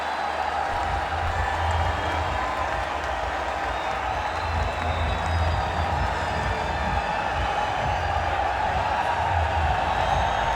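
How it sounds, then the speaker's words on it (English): A cricket crowd in Pakistan rising for a standing ovation after a century, sustained distant applause and murmur from the gallery, with commentary over it. "A standing ovation from the gallery and the crowd."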